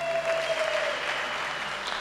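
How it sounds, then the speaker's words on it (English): Banquet audience at an awards ceremony applauding, a steady crowd of many hands clapping for about two seconds, evenly loud throughout with a faint tone running beneath. "Applaud if you can hear me"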